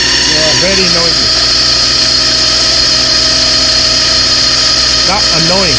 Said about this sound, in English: see that noise from that pulley